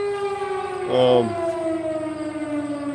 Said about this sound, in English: That's what they call the noon whistle around here.